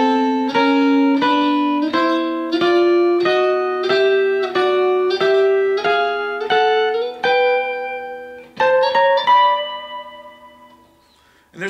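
Guitar double stops walk up step by step through scale positions, each pair of notes picked in an even rhythm and climbing in pitch. A quicker flourish follows, then a ringing final chord, played alone and clear.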